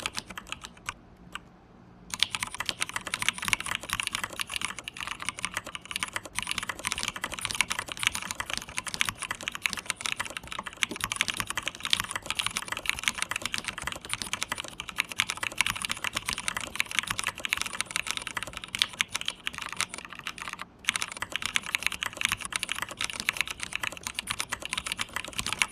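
Continuous rapid typing on a computer keyboard during a typing speed test, dense clicking keystrokes running steadily for the whole stretch after a brief pause at the start, close and clear with no talking.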